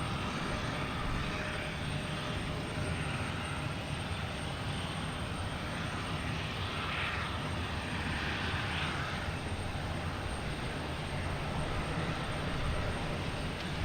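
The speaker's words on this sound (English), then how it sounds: "We also have a JetBlue coming in here from Madrid. Get to that one. A321neo, flight 2260." A JetBlue Airbus A321neo arriving from Madrid at Boston Logan Airport, heard as a steady broadband jet roar that holds constant and loud for the whole stretch, with no voices over it.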